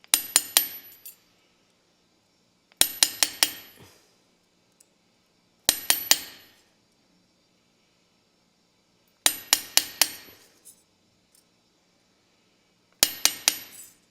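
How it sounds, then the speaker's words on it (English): A round-edged forging hammer strikes metal jewelry on a hard surface in five separate bursts, each a quick run of three or four bright, ringing taps that decay fast, with silence between bursts. "I use one hammer almost all the time. And this is a forging hammer, has a little bit of a round edge."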